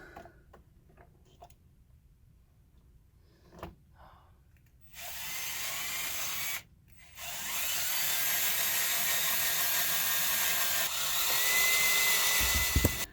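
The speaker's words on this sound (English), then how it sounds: "I got the hole drilled the entire way through" Quiet ticking and taps give way to a loud, steady whine of an impact driver with a drill bit boring through a wall for network wiring, pausing briefly before resuming.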